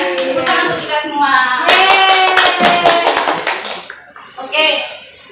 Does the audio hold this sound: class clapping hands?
yes